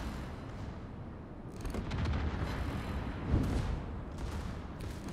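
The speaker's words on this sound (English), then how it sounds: "there's the shots" Naval battle in a video game, with gunfire rumbling through dense, continuous low booms and crackle and one louder burst near the middle, all fairly loud and blended together with no voices on top.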